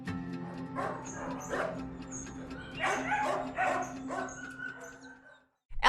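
Dogs at an LA Animal Services shelter bark and yip in repeated bursts, close and loud, with whimpering between barks and a brief silence before a final bark.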